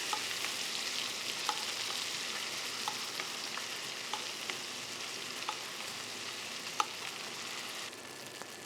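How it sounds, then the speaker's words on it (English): A ribeye steak basted in butter sizzles steadily in a hot pan, a continuous even hiss with occasional small pops and spoon clinks, close and alone with no talking. "And just baste it a bit in the butter."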